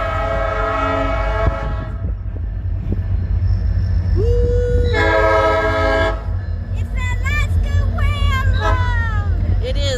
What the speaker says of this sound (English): you get to watch the train go by